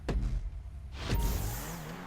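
A Pegassi Reaper supercar in GTA V Online sweeps past twice, each pass a quick engine whoosh that rises and falls, followed by a steady engine drone, with no talk.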